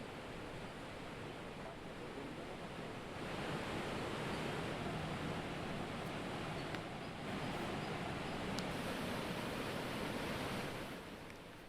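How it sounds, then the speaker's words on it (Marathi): The Sahastrakund waterfall on the Painganga river in flood during heavy rain in Nanded gives a constant broad roar of rushing water, steady and unbroken throughout. "पैनगंगा नदीवरचा सहस्त्रकुंड धबधबा प्रवाहित झाला असून या धबधब्याने आता रौद्र रूप धारण केलंय"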